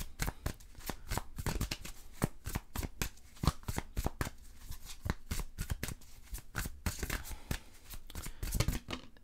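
Tarot cards are shuffled by hand in a long run of quick, crisp riffles and slaps, close and fairly soft, with no talk over them.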